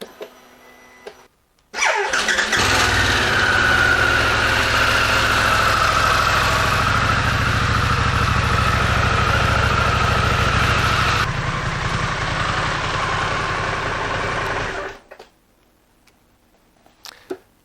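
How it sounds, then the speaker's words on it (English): A Harley-Davidson Pan America motorcycle starts and idles steadily for warm-up on a center stand, a loud, even rumble held close for about thirteen seconds before the engine is shut off into quiet. "get the bike up to operating temperature, which means either riding it for at least 5 minutes or letting it sit for idle"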